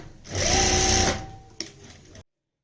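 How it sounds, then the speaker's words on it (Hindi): Sewing machine stitching along a marked line on an embroidered Punjabi kurti, a steady close whirring run of about a second that slows and stops, with a brief click after it. "तो यहाँ पे भी हम ये निशान के ऊपर ही सिलाई लगा लेते हैं।"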